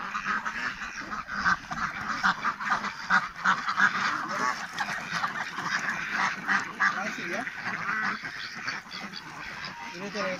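Ducks on a duck farm raising birds for eggs give a busy, overlapping chorus of quacks and honking calls, steady and fairly close throughout, with some voices mixed in.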